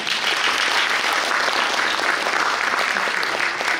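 Steady, dense applause from a hall audience at a youth sung poetry festival award ceremony, loud and even throughout with no talking.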